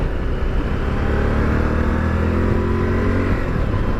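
A Honda XL1000 Varadero motorcycle accelerates onto a motorway, its engine drone and wind rush loud and constant throughout.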